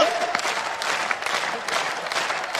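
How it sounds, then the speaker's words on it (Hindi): Audience applause at a Hindi poetry recitation, a full, steady burst of clapping from many hands with light crowd murmur mixed in. "आपको ताली बजाने की ट्रेनिंग किसने दी है?"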